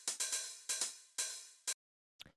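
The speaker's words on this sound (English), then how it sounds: "So this is really simple. It's just two hi-hats." Lo-fi house hi-hat pattern played on a closed and an open hi-hat from a drum rack, gritty and alone: a run of bright sizzling hits with longer open decays, a short gap, then one faint closing tick.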